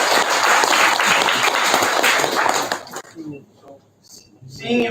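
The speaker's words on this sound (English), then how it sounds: "So let's give a round of applause for everyone." Applause at a product launch event, crowd clapping loudly for about three seconds before cutting off abruptly, followed by quieter clinks and a voice.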